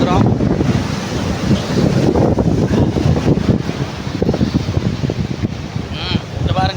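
Sea wind buffets the microphone at Shankumugham beach in Thiruvananthapuram, Kerala, with surf rolling beneath a loud, gusty roar and voices faintly mixed in.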